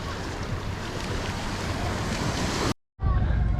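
Surf on Las Vistas beach in Tenerife, a continuous close wash of waves mixed with heavy wind buffeting, broken by a brief cut of silence near the end.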